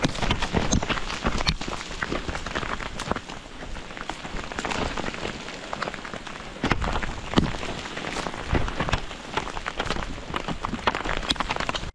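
Hail pelts down during a mountain ultra trail run in Transylvania, a dense, continuous patter of sharp impacts on the ground and gear, loud and close throughout with occasional heavier hits and footsteps.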